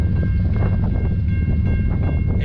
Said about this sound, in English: NS 123 heading east on the Saturday before New Year's